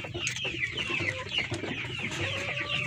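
A Plymouth Rock heritage rooster clucks repeatedly at close range, short throaty calls in an uneven rhythm over a faint farmyard background, with no voices.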